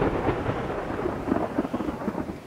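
Steady rain pours down while low thunder rumbles and rolls underneath, a continuous stormy wash with no voices, during a July 1977 thunderstorm in New York.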